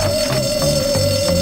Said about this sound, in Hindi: और हमने फायर अलार्म खींच दिया